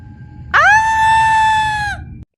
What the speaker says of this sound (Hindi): गीत की आंख खुलती है और वह घबराकर चीख पड़ती है।